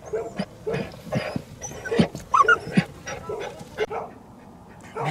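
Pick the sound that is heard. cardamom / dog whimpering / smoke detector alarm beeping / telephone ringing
dog whimpering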